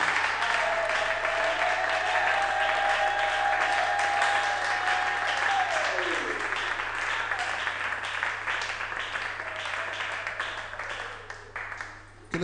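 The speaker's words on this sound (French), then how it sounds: "Est-ce qu'on peut acclamer très fort pour la gloire de notre Dieu?" A church congregation at a seminar applauds loudly, dense sustained clapping filling the room for many seconds alongside a steady tone, thinning out toward the end.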